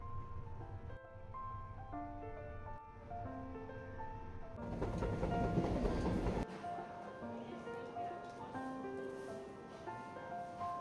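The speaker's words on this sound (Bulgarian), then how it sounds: "Във влака сме за Черна гора." Inside a moving train bound for Montenegro, a steady low rumble of wheels on rails carries on throughout, with a louder, harsher rattling stretch in the middle and faint voices in the background.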